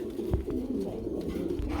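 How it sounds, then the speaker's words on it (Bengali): Pigeons coo softly nearby in a short run of low, throaty, rolling calls, with no talk over them. "আরেক জোড়া কবুতর রয়েছে"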